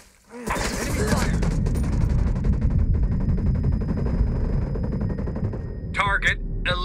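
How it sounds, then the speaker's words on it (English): Gunfire in a Ghost Recon Breakpoint match erupts after a moment of quiet into sustained, heavy automatic fire and booming shots, loud and close throughout, with sharp distinct cracks near the end. "Enemy fire."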